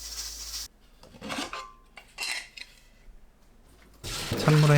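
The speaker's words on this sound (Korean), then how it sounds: "찬물에 헹굽니다" Dried gondre greens are rinsed in cold water in a pot, with short splashy bursts of water, clinks of metal cookware and a louder rush of running water near the end.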